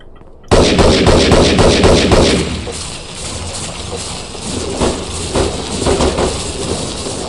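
Gunfire in the video game Devastation, a loud burst of rapid automatic shots starting abruptly, then continuing as scattered sharp cracks and rattles under a steady noisy backdrop.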